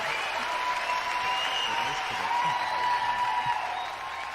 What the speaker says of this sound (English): You missed the epic applause.